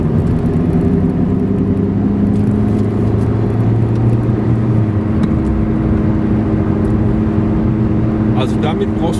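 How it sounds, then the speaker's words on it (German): Citroen C2 driving in fourth gear, a steady low engine drone with road and wind noise from inside the cabin, loud throughout while someone talks over it. "So, wir fahren im vierten Gang."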